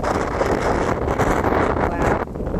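Strong gusts buffet the microphone throughout, a loud continuous roar of wind with no voices.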